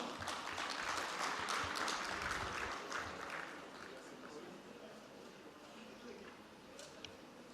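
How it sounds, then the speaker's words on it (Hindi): Applause from an audience at a Jaipur conference, a steady wash of clapping that is fuller at first and then fades to a thinner patter, heard at a distance. "तालियां बजाएं"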